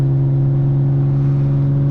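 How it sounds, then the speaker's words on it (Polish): Audi S4 3.0 TFSI exhaust under acceleration, a loud, steady droning engine note with a strong low hum and little variation, heard inside the car. "troszkę tutaj głośno od tego wydechu"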